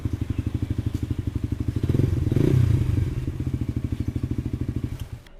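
Motorcycle exhaust with a deep bass tone idling outdoors, a close, steady low pulsing thump that swells briefly with a small blip of throttle midway before settling back to idle.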